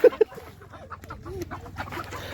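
A rooster gives a couple of sharp clucks at the start as it is chased, followed by scuffling movement and faint, busy background noise.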